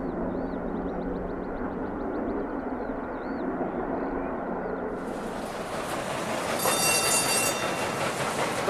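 Steam locomotive King Edward I running on the main line, a steady rolling rumble with rhythmic wheel clatter that swells and brightens in the second half as the train draws nearer.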